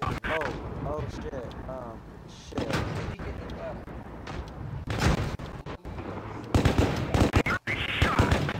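Heavy tank cannon blasts and impact booms from World of Tanks Blitz roar in repeated bursts over rumbling engine noise, with a voice speaking over the battle.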